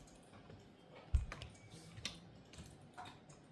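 Quiet typing on a computer keyboard: scattered, irregular key clicks, one sharper tap near the start, in a faint, still room with no talk.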